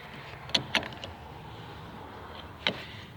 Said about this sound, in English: take your 9/16. Tighten the nut